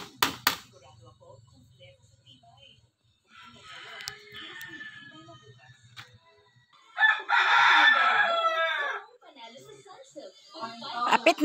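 A rooster crows loudly and clucks near a chicken coop being built, with intermittent bird calls and nearby speech around the crow.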